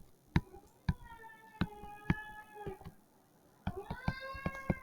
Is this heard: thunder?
no